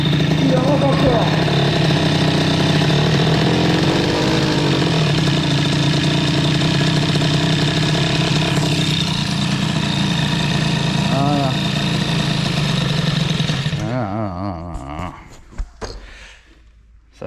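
An air-cooled Peugeot 103 moped fitted with a Stage 6 Mk2 hybrid kit idles loud and close with a steady buzzing drone that sags and fades near the end, followed by a few clunks.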